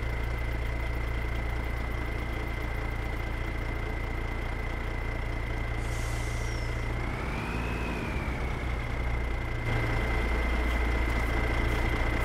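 Two tractors in Farming Simulator 22 idling side by side, a steady droning engine hum with a constant whine, running alone and unbroken throughout.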